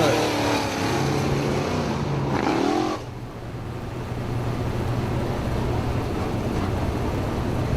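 Stock car circling Dixieland Speedway, a steady engine drone that swells and dips in pitch as it passes, then settles into a rougher, lower rumble, with a voice faintly present over the track noise.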